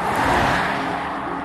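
A 2023 Genesis Electrified GV70 electric SUV drives along with a steady, loud rushing of road and wind noise close by, with no voice.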